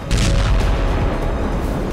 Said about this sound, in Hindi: देखिए कैसे जोरदार धमाका हुआ। ये रशियन फोर्स की माइंस का असर है।